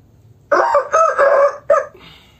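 A Bangkok rooster crows loudly and close, one drawn-out call broken into several strained segments.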